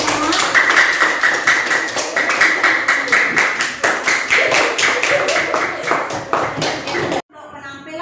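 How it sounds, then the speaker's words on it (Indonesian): A school class applauds together in a quick, even rhythm of claps with voices mixed in. The clapping runs for about seven seconds and then cuts off abruptly. "Berikan tepuk tangan."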